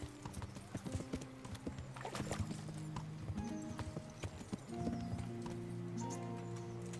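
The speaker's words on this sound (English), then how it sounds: "Alright, you stay here, horsey." Horse hooves clip-clop in Kingdom Come: Deliverance, a quick uneven run of hoof strikes with a brief whinny, against steady game ambience and no talking.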